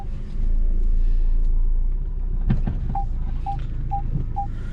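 A car engine rumbles steadily at close range while a reversing beeper sounds four evenly spaced beeps in the second half.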